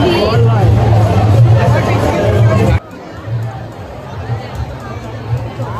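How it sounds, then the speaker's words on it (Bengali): Thick crowd noise at the Chandannagar Rath Yatra festival: loud, close babble of many voices that abruptly drops to a quieter, more distant murmur partway through. "প্রচুর ভিড়।"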